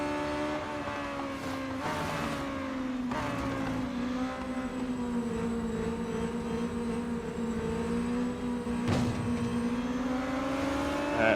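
Race car engines in the video game Real Racing 3 drone steadily through a busy race, a continuous loud whine with shifting pitch as cars jostle for position, with no talking.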